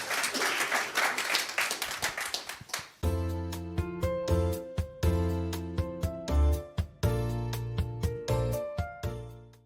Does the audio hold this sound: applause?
yes